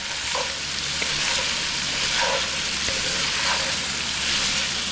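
Chopped fresh onions, green peppers and celery frying in a pot for Cajun jambalaya, a steady dense sizzle close up, with faint stirring clicks and scrapes of the utensil throughout.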